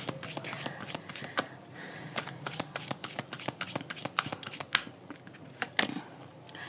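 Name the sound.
tarot cards being shuffled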